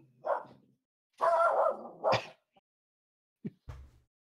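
A dog barks in a few loud, close bursts with pauses between, ending in shorter yips and a low grunt against an otherwise quiet room.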